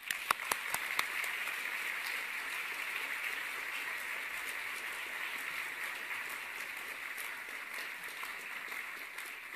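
Audience applause welcoming a plenary award lecturer, dense and steady clapping from a large crowd throughout, a few sharper claps standing out at the start.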